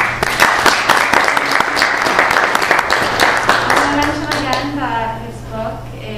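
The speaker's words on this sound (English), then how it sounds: "let's give everyone a round of applause" A lecture audience claps in a dense burst that fades after a few seconds, and a voice then speaks over the dying applause.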